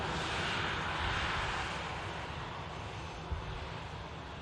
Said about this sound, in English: Emirates Airbus A380 lining up on runway 23 right.